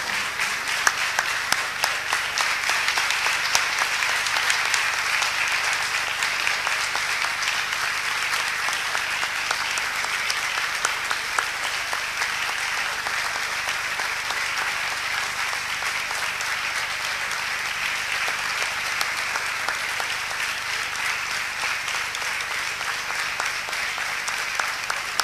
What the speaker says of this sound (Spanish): Vamos entonces a realizar un minuto de aplauso